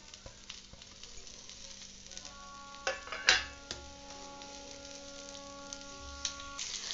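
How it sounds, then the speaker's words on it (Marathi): Sliced onion fries in oil in a kadai with a soft, steady sizzle near the pan, broken by a few sharp spatula scrapes and clinks midway, and no speech. "या कढईमध्ये आपण कांदा भाजून घेऊ"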